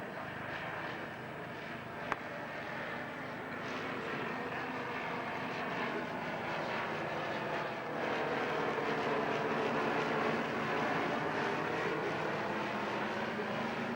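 A Handley Page Halifax B3 bomber flies past at an air show, its engines giving a steady, loud drone that fills the whole stretch without a break.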